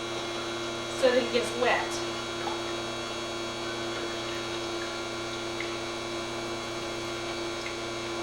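An electric dough mixer runs to stir yeast into bread dough, giving a steady, even motor hum throughout, with a person talking briefly near the start.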